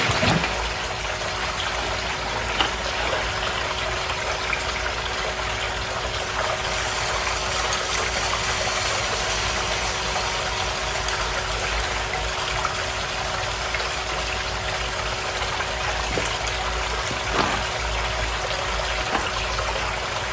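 Water rushes steadily through a gold-processing sluice for flour gold, a continuous broadband wash with a low, constant pump engine hum beneath it and a few faint knocks.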